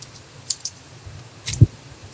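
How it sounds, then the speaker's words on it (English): A few sparse computer keyboard keystrokes, sharp clicks at irregular intervals with one heavier low thump, close and fairly quiet over a faint background hum. "I'm typing, but I'm also doing something else"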